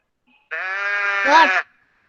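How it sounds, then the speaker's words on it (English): A goat sound effect in an old cartoon style: a single loud, wavering bleat lasting about a second, heard alone against silence. "A goat makes that sound. It is a goat."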